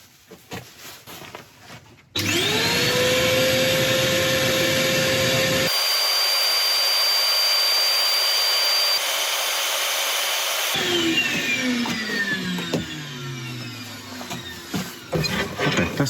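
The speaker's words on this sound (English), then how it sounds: "that's those two off-centre bits sanded up" A wood lathe drives an off-centre wooden bottle opener blank during sanding, starting as a loud steady motorised whine that holds, changes tone in the middle, then drops to a lower hum with faint scraping.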